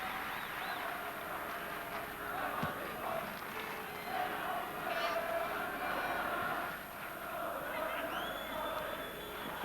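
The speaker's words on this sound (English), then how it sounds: "And applause for Leonard Nielsen" A football crowd at the UEFA Cup Final first leg between IFK Gothenburg and Dundee United applauds a player, a distant, steady wash of clapping and cheering running under a commentator's voice throughout.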